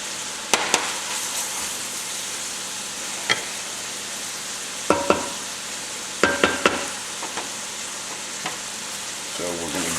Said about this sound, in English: So we're going to give this a good mix, just all incorporated, and let this cook for about a minute or so